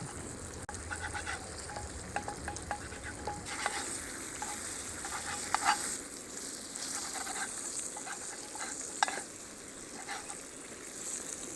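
Diced bacon fries in a pan over a campfire outdoors in a forest, a steady close crackling sizzle with occasional stirring scrapes and spatters, no talk.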